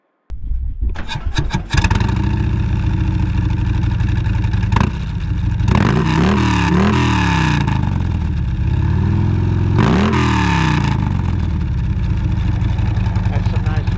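A 2019 Harley-Davidson Tri Glide with an upgraded Screamin' Eagle 131 engine starts, then rumbles loud and close on the road, its throttle blips rising and falling in repeated rev swells over a steady deep exhaust drone.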